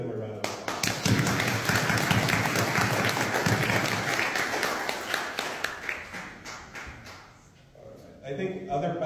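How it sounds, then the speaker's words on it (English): Round of applause from an audience at an award ceremony, dense crowd clapping that fills most of the clip and fades near the end, with some voices mixed in. "So please give them a round of applause."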